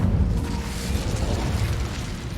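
The Incendio fire spell cast in the video game Hogwarts Legacy, a steady loud rumbling whoosh of flame with a low roaring body that holds evenly throughout.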